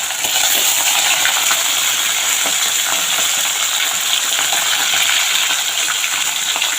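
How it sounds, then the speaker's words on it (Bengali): Large hilsa fish pieces, rubbed with salt and turmeric, frying in oil in a small wok, a loud, dense, continuous sizzle and crackle that stays even throughout, no voices. "এখানে দুটো মাছ দিয়ে আমি ভাজবো"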